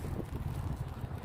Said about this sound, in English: it's getting windy and hard to hold the umbrella